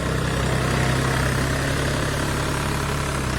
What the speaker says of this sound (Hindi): ये 4 व्हील ड्राइव की कंपनी का ट्रैक्टर है, न्यू हॉलैंड 4x4, देख सकते हैं।